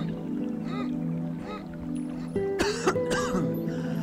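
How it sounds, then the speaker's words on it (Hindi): During a yoga breathing exercise, someone makes throaty rasping, gurgling breaths followed by a short burst of coughing and throat clearing, close to the microphone. "इसका जब भी हम अभ्यास करेंगे तो खांसी जरूर आएगी।"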